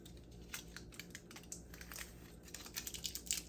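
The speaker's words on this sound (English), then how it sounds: "we're going to just peel this tape off." Tape peeling off sublimation vinyl laid on 100% cotton fabric gives a quiet, crinkly crackle with small snapping ticks, soft and close with no talking.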